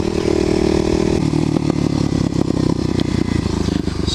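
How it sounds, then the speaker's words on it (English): Kawasaki KLX250SF motorcycle ridden along a paved road, its engine loud and close with a continuous rattly, pulsing drone and a drop in pitch partway through as it shifts. "They don't appreciate my loud motorcycle."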